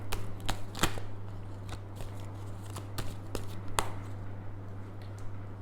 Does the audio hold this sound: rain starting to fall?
no